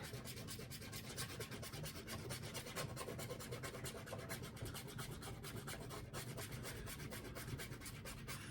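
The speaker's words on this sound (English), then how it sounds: "Scratch and match 4 cakes in a row to win. I'm gonna scratch it real quick." A coin or fingernail scratches the foil off a paper scratch-off lottery card, a steady close-up rasping and rubbing that runs continuously with no talk over it.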